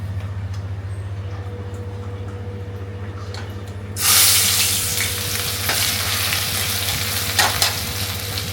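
Potatoes frying in hot oil in a home kitchen, a low steady hum at first, then a sudden loud broadband sizzle that keeps crackling and spitting for several seconds with no voices.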